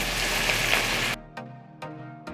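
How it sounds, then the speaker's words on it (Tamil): A loud burst of sizzling as chicken hits butter in a hot pan, then the frying quiets to a softer crackle broken by a few sharp clatters. "இப்போ நம்ம கழுவி வச்சுருக்க இந்த சிக்கனை வந்து இதில் சேர்த்துப்போம்."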